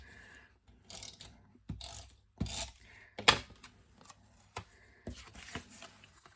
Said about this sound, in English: I'm going to use the tape runner because of the embossing.